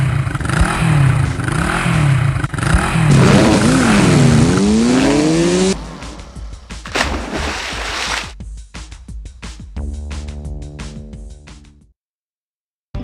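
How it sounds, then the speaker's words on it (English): A toy race car's engine revs up and speeds off in a Nick Jr. racing game, loud and continuous with rising whines and tire noise, then giving way to clattering effects and game music before a short silence. "Tap and hold this button to rev up the engine and see Darrington go!"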